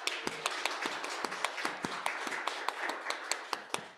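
A small audience at a talk on vitamin D and neurological health claps for the crew, a few distinct, sharp handclaps ringing out over softer scattered clapping at moderate distance.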